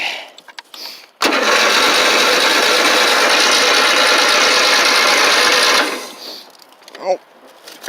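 Tractor engine cold starting with the choke on: a sharp catch, then about five seconds of loud, steady, buzzing running before it cuts out, with brief talk before and after.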